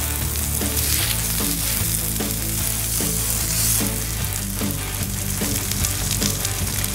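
A burger smash patty sizzles on a Blackstone griddle, a loud, dense and constant frying hiss with crackling pops and a few scraping spatula strokes, no voices.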